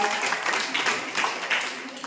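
A live audience claps in broken, textured bursts at a religious discourse gathering, with a voice partly masked underneath.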